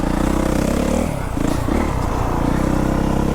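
A motocross motorcycle riding through a muddy track, its engine droning loud and close throughout, with a brief dip in the middle before it pulls strongly again.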